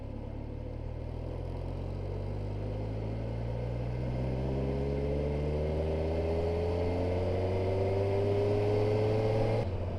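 Kawasaki Versys 1000 SE motorcycle engine lugging in sixth gear at about 25 km/h, a steady low droning hum with slowly rising harmonics under continuous wind rush, close and even.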